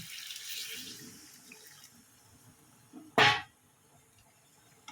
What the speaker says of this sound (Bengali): আগে থাকতে আমি গরম জল করে রেখেছিলাম এবার জলটা দিয়ে দিলাম